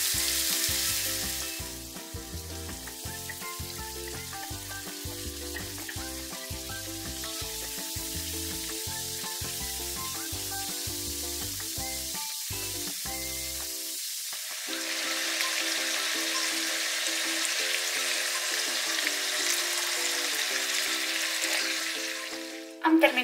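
Brown rice with mushrooms frying in a pan, a steady hiss and sizzle running under background music, brightening toward the end.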